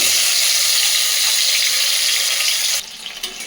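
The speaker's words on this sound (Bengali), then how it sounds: "আলুগুলো ভাজা হোক" Potatoes seasoned with salt and turmeric hiss loudly in hot oil, a dense close sizzle that holds steady for nearly three seconds before dropping away abruptly to a faint simmer.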